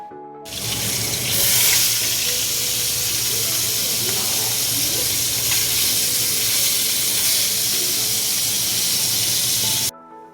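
Fish frying in a pan gives a loud, continuous sizzling hiss that stays steady for about ten seconds before it stops abruptly.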